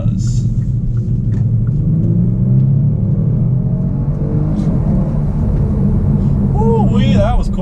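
A 2018 Kia Stinger GT in sport mode accelerating hard, a loud steady engine rumble and road roar from inside the cabin, with someone talking over it.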